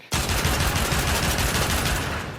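A Pyrana Prime shotgun fires in a video game, a rapid, steady barrage of loud, close blasts that runs without a break for about two seconds, with no talking over it.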